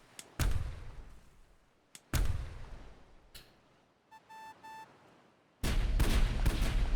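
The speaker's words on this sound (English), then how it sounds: "we just move around the map and we shoot at ships" Gunfire in a Morse code video game where the player shoots at ships: loud blasts at irregular intervals, a short burst of electronic beeps in the middle, and a sustained heavy barrage near the end.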